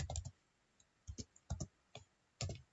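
Several short bursts of clicks come from a computer keyboard as a command is typed, the keystrokes quick and close, spaced by brief pauses.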